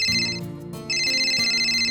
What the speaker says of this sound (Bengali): ছোট বোন ফোন করেছে একটু কথা বলে নিই